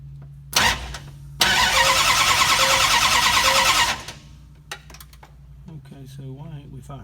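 A car engine cranks over repeatedly without catching, the carburetor recently refitted and the cylinders not firing, a steady loud grinding that runs for a few seconds and then stops, with voices talking before and after.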